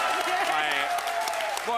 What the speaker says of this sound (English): can we just get a huge round of applause